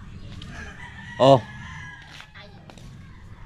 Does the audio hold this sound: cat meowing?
no